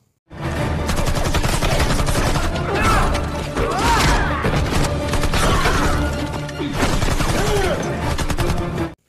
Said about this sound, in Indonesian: dirinya menembaki para musuh menggunakan AKM hanya dengan satu tangan